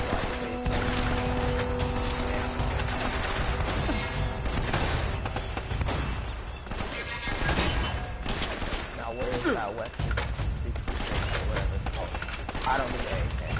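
Gunfire from a battered gun in Uncharted: Drake's Fortune, loud, dense and near-continuous, mixed with game music and effects, with a voice talking over parts of it.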